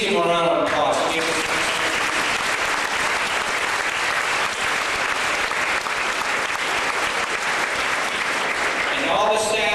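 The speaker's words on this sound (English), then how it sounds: "Please give them a round of applause" Audience giving a round of applause at a public gathering, dense sustained clapping from a large crowd that fills the space and stays steady throughout.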